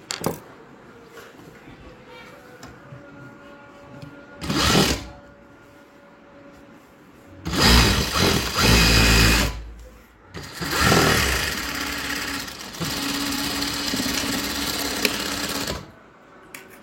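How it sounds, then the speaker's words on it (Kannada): An electric sewing machine stitches thread piping onto a blouse in repeated bursts of steady mechanical whirring, one short run followed by several longer runs, close and loud, with pauses between. "ನಿಮ್ಗೆ ಎಕ್ಸ್ಟ್ರಾ ಸ್ಟಿಚಿಂಗ್ ಸೌಂಡ ಕೇಳಿಸ್ತಿರ್ಬೋದು"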